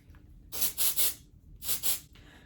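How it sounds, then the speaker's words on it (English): Short bursts of dry texture hair spray hiss close by: three quick spritzes, a pause, then two more, with quiet room tone between. "I'm just gonna spritz it all over."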